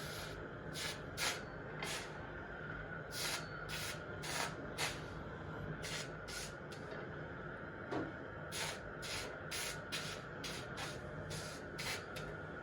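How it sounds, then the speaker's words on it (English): Chemical patina solution fizzes and sputters on a heated bronze penguin sculpture, making a continuous sizzling hiss broken by repeated short bursts of spray. The sound is faint and steady, with no talking. "Ideally that's what I want, a nice fizzing, because that creates the rings that I like on my patinas."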